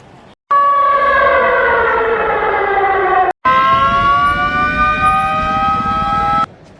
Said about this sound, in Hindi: 4 बजे जो है सायरन बजा